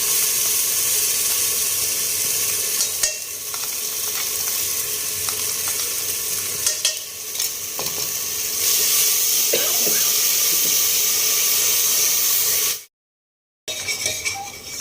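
Masala spices for aloo matar sizzle and fry in a pan, a loud continuous hiss with occasional clinks of a stirring spoon, cut by a brief silence near the end.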